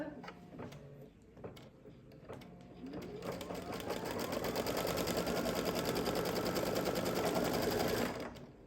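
An embroidery machine stitches an outline for an opening in stabilizer for a lip balm holder project, starting with a few taps and a rising motor whine, then settling into a fast, steady, close stitching rattle that stops abruptly.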